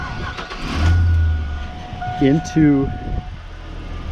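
A 1965 Chevrolet Impala with a swapped-in LS V8 idles steadily at moderate loudness, with a low rumble underneath and someone speaking over it.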